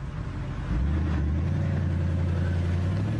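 A BMW 6 Series car engine runs loudly and steadily, its low rumble rising slightly in pitch as it revs, with no voices.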